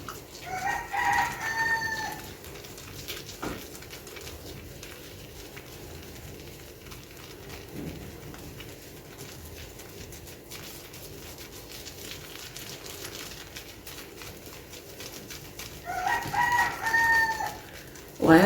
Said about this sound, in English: why are the roosters being so loud today?